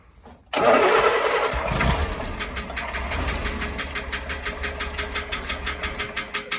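A Land Rover Series 2.25 TDI diesel engine cranks and fires abruptly, then settles into a loud, close, steady idle with an even knocking pulse.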